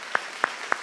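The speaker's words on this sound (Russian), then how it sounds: "давайте похлопаем ему" Three sharp, evenly spaced claps ring out quickly in a row, fairly close and clear over a faint background hum.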